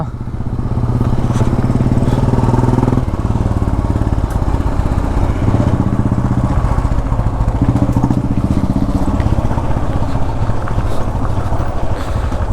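A motorcycle engine revs loudly and continuously up close, its pitch rising and dropping as the bike rides off-road over rough hill ground.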